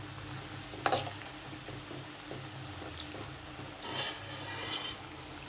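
Food frying in a pan, with a steady quiet sizzle, one sharp clink near the start and soft stirring scrapes later.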